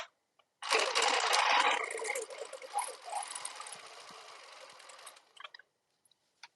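Sewing machine quilting fabric, stitching a steady, close, fairly loud run that starts abruptly, eases slightly partway, and stops after about five seconds, with no talking.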